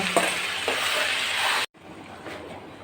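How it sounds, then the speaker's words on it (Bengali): Ground paste of cumin, onion, garlic, ginger and chili frying with potatoes in a pan, a loud, steady sizzle with stirring scrapes, cutting off abruptly then resuming more faintly. "আলুর ভিতর দিয়ে ভালো করে কষিয়ে নেব।"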